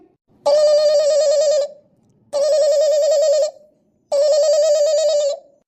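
A telephone rings in three long, loud electronic bursts separated by short silences, steady and close, with no voices over it.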